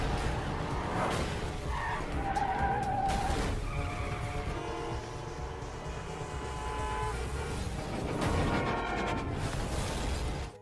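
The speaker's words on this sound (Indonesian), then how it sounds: "Hal tersebut membuat kacau lalu lintas hingga terjadi kecelakaan beruntun." Tires squeal and skid repeatedly as cars collide in a chain crash during a chase scene, with engine roar, screeching rubber and impacts filling a loud, continuous stretch.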